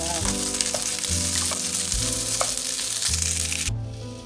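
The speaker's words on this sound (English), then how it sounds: "We're just going to mix that and let that simmer for about 5 minutes." Fried cabbage cooking in a pan gives a steady, loud sizzle, with a few stirring knocks and a rhythmic low thumping under it. Near the end the hiss drops off sharply, as if the pan were covered.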